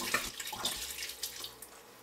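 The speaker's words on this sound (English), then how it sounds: "now I'm going to top it off with some" Rainwater pouring into a container while mixing a natural bug spray, a close, continuous splashing trickle lasting about two seconds.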